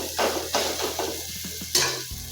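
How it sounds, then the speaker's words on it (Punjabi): A Punjabi-style tomato tadka for pumpkin sabzi sizzles in a pan as a spoon stirs it, giving close, rhythmic scraping strokes over a steady frying hiss, with no talking. "ਮੈਂ ਵਿੱਚ ਵਿੱਚ ਤੜਕੇ ਨੂੰ ਹਿਲਾਉਂਦੀ ਰਹੀ ਆ ਤੇ ਤੜਕਾ ਆਪਣਾ ਬਿਲਕੁਲ ਰੈਡੀ ਹੋ ਗਿਆ"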